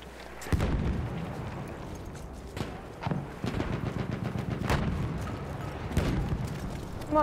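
In Battlefield 1, a chaotic battlefield rumbles with several sharp blasts and booming impacts scattered over steady distant gunfire, one of them plausibly the grenade explosion, all loud and close.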